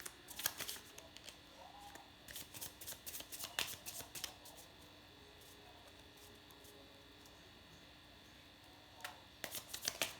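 Tarot cards are shuffled and nearly dropped, making bursts of quick riffling flutter close up, with a quiet pause in the middle and more shuffling at the end over a faint electrical hum.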